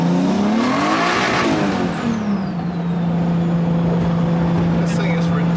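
A turbocharged 600+ horsepower 2JZ-swapped car revs hard, then settles into a steady, loud engine drone as a turbo whistle sweeps down over it.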